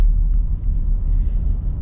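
A 2025 Nissan Frontier SV pickup truck's non-turbocharged engine runs with a steady, smooth low rumble from inside the cab, constant and unbroken with no talk.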